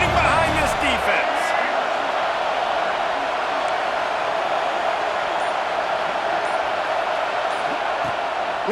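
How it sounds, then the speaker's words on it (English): Stadium crowd in EA Sports College Football 26 roaring steadily behind the defense on a third down in the red zone, a dense, constant wash of noise that fills the whole stretch. "this crowd is getting behind this defense"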